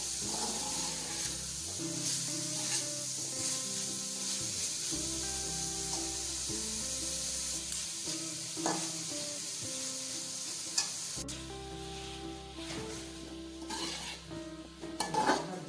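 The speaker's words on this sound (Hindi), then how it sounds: "अब हम आलू डाल दिए हमने। अब हम इसको भून लेंगे अच्छी तरह 5 से 6 मिनट।" Potatoes sautéing in a pan for aloo qeema, a steady sizzle under repeated spatula stirs and occasional clinks of metal on the pan, fairly quiet and close, with no voices.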